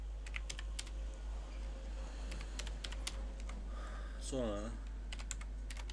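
A password being typed on a computer keyboard: sparse, light keystroke clicks in small clusters, with a short spoken word near the end.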